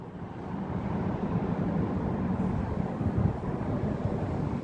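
Pratt & Whitney jet engines on an airliner such as an Icelandair Boeing 757-200 just after takeoff, a steady broad roar heard at a distance, strongest in the low range, with a faint swell near the end and no talking.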